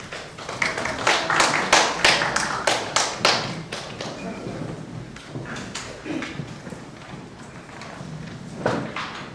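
Audience at a Korean national poetry recitation contest claps for the next contestant, a dense burst of applause that swells loud in the first few seconds and then thins to scattered, fading claps.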